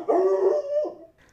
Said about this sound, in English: he just barks excessively.